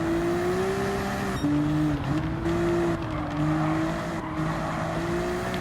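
A race car engine in Gran Turismo 7 droning steadily through corners at Kyoto Driving Park on sports soft tyres, its pitch rising and dipping with brief lifts between gear changes, loud and continuous with no voices.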